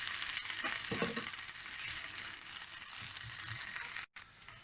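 A rice pancake frying on its second side in a pan gives a steady close sizzle with faint scraping, running continuously with a brief dropout near the end.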